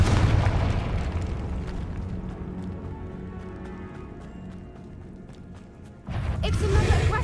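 A Confringo blasting spell detonates in Hogwarts Legacy, a loud booming burst that slowly fades, followed by a second sharp blast after a short lull.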